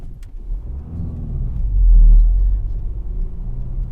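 A small car drives along a dirt forest road in the horror game Someday You'll Return, a low steady engine rumble that swells briefly in the middle before settling, with no talk.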